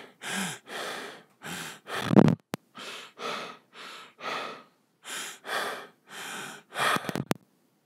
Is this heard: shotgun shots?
no